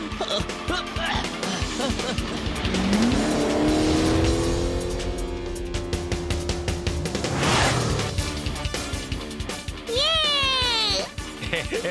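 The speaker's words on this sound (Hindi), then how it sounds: "ओह नो, टेम्पो अन्ना की कार तो स्टार्ट हो गई। अब मुझे पूरी स्पीड से आगे बढ़ना होगा" A cartoon race car starts up and speeds away during a kids' animated race, its engine whine rising and sweeping in pitch over busy background music, with a squealing burst and chirpy rising tones near the end.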